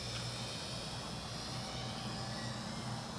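A radio-controlled model airplane engine drones steadily and fairly loud throughout, with a continuous buzzing tone and no talk.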